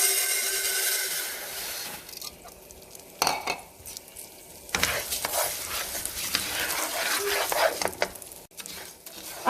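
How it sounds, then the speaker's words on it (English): Rice frying in hot oil in a pan for Mexican green rice, giving a steady close sizzle with occasional stirring scrapes and clinks of a utensil against the pan. "I have my oil almost ready, hot enough to start frying the rice"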